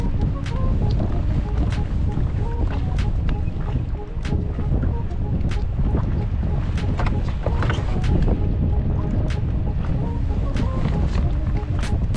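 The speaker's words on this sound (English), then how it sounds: "the wind still blows." Strong wind blowing outdoors on a fishing outing, a loud continuous rush buffeting the microphone, with faint sharp ticks and knocks scattered through it.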